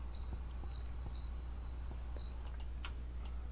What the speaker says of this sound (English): I don't like the cricket sound